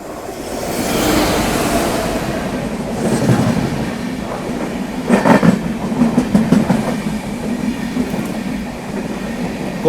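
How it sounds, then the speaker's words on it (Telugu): The Mandovi Express, a passenger train between Mumbai CSMT and Madgaon, rumbles into a station. A loud, close low roar builds, then clickety-clack wheel beats and faint squeals join it as the coaches roll past. "యాజ్ ఎక్స్పెక్టెడ్ కంప్లీట్ ట్రైన్ కూడా వచ్చేసింది."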